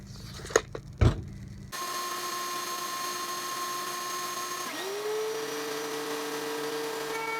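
An electric wood planer runs on lumber boards for a DIY tabletop. It gives a steady, close mechanical whine with a humming drone, and the pitch drops and shifts partway through. A few sharp knocks come before the motor starts.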